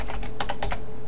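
Rapid, close clicking keystrokes on a computer keyboard as a Linux command is typed on an Ubuntu server, a quick burst of several taps with no voice.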